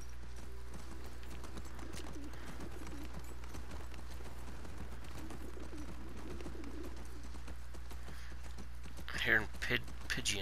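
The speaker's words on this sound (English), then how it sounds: "Hearing pigeons." Soft pigeon coos and bird calls in The Last of Us Part II, Seattle, over a steady humming background, with a few brief louder sounds near the end; no clear talking.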